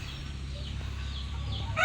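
Large Rhode Island chickens with a hen cluck faintly in a backyard flock, a few soft calls over a low steady background.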